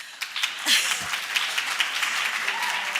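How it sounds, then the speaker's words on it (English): An audience at the closing session of a national space conference in South Africa claps, a dense round of applause with a few sharper individual claps near the start and faint voices mixed in beneath. "ladies, we have to clap hands for ourselves"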